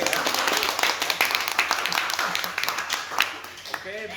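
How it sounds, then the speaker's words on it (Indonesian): Students attending a university podcast recording at UT Batam clap together, a steady burst of dense applause that runs the whole time with voices mixed in among the claps. "tepuk tangan dulu dong"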